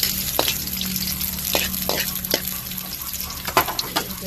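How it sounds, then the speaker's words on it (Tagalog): Garlic, onion and ginger sauté in hot oil in a pan, a steady broad sizzle broken by a few sharp scrapes and clicks of stirring, close and continuous throughout. "Gigisa po natin dyan yung bawang, sibuyas, at luya."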